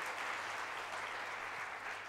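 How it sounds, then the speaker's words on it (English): An audience applauds at an inspirational storytelling event: a dense, even wash of clapping, fairly faint and distant, holding steady throughout with no voices over it. "let's give a big round of applause for this brave brother"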